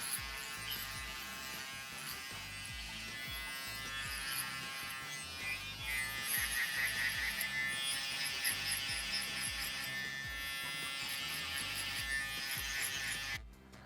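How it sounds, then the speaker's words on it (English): Electric shaver buzzes steadily as it moves back and forth across short curly hair during a barber's high fade, a close continuous whine with slight pulsing, no talk over it. "just apply your shaver on the skin and move back and forth"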